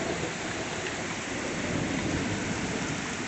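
Heavy summer-storm rain pours steadily alongside a continuous deep rumble of thunder, loud and unbroken throughout.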